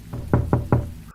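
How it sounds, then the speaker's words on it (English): Knocking on a door as a sound effect in a story reading: about four firm knocks, close and alone, the middle three loudest, followed by silence. "yet the knocking persisted."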